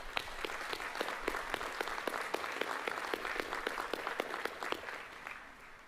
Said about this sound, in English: Please join me in a big round of applause and appreciation for all that they have done for you.